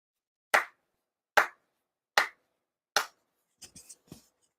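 Four sharp, evenly spaced ceremonial hand claps ring out alone at a memorial ceremony, followed by a few fainter, softer claps or taps trailing off.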